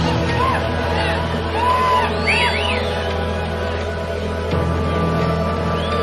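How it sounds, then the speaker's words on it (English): A wrestling show crowd keeps up a steady roar throughout, with scattered whoops and yells rising above the dense babble, close and continuous. "The energy of the crowd hasn't stopped since the first man came out till now."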